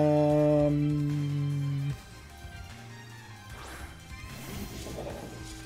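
Crystal shattering in Pokémon Scarlet and Violet: a loud tonal burst rings for two seconds, then breaks into a crashing smash with scattered bright debris and swishes trailing off.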